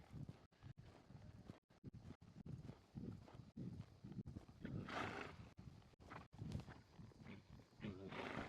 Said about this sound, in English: we're going to pick up the left lead lope.